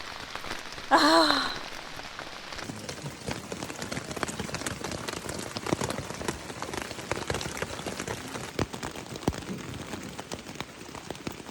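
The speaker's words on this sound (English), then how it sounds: "The rain eventually slowed down a little bit" Rain patters steadily on tents at a campsite along the Appalachian Trail, a close, dense hiss of drops with irregular louder taps, after a brief faint vocal sound near the start.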